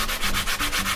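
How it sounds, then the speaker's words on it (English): Hand sanding of a textured paste layer on a decoupaged butterfly tag to distress it, a close, loud rhythmic scrubbing of about five quick back-and-forth strokes. "I'm just going to sand a little bit, take some of that off"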